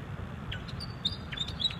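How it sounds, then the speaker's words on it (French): Several different wild birds chirp in short, high, separate calls, a few scattered notes over about two seconds, fairly faint above a steady outdoor hiss, with no one talking. "Et puis il y a plein d'oiseaux différents."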